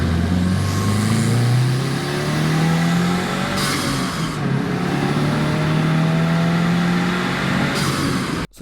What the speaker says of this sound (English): the sound of the cold air intake is worth all the money